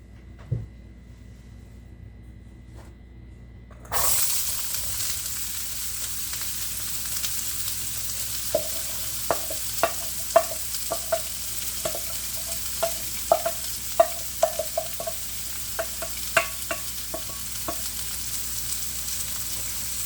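Onions sautéing in about a quarter cup of oil for an Italian peperonata calabrese: after a near-silent start, a sudden loud sizzle begins and holds steady, dotted with sharp pops and spatula clicks.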